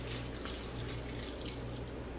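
A cup of water is poured into a pressure cooker, a brief steady splashing stream, quiet and close.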